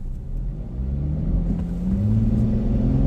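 A Dodge Challenger SXT V6 launches from a standstill on the street in a 0-60 run. The engine note climbs steadily under load in a loud, close, continuous rev with a rumbling low end.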